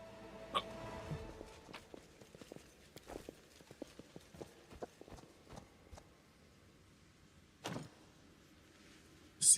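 Hiccups burst out sporadically over a gaming session, scattered short sharp jolts through the clip with a louder cluster near the end, set against a quiet background.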